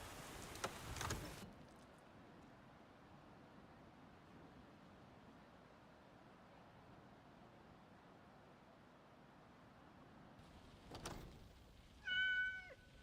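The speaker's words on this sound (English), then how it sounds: "Meow right back at you" Cat meowing in the video game Skyrim, a brief, fairly close meow at the very end following a long stretch of faint rain-like ambient hiss broken by a couple of short noisy bursts, with no talk.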